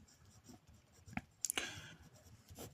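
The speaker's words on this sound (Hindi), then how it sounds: "यहाँ पे लिखेंगे हम सॉल्यूशन।" Pen or marker writing out a solution by hand for a maths example on prime factorisation, with faint scratchy strokes and a few sharper taps against a quiet background; no one speaks.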